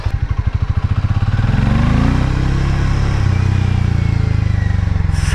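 A Harley-Davidson X440 motorcycle engine idles with a rapid pulsing thump, then revs up into a sustained, rising whine before dropping back to the lumpy idle, loud and close with no talking.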